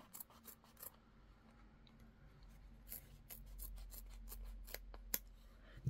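Scissors cut around a piece of leather in a series of crisp, close snips, some quick and clustered, over a quiet background with no talking.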